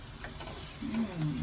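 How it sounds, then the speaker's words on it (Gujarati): Momo filling of garlic, chili, cabbage, onion and carrot is stirred slowly in a hot pan, a quiet sizzle with soft scraping strokes, close and low in level, with no talk. "ચલો હલાવો આમ ધીમે ધીમે"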